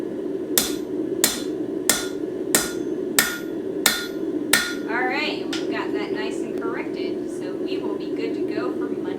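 A hammer drives a steel punch through hot metal to make holes in scrolling tongs at a forge, with seven sharp, evenly spaced ringing strikes followed by a person speaking over a steady background hum.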